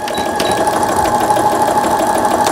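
A Brother Innovis 10 home sewing machine stitching after a repair, a loud, steady mechanical whir with a fast rhythmic needle chatter, close up and continuous without any talking.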